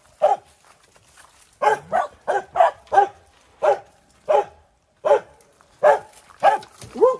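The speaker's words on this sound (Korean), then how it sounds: "너 왜 거기 올라가서 짖니?" A dog at a farm barks about a dozen times in sharp, separate yaps, close and loud, with short irregular pauses between them and no talking.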